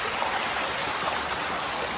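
Cold river water rushes steadily over rocks in a mountain setting, a dense, even wash of flowing water that stays constant throughout with no voices.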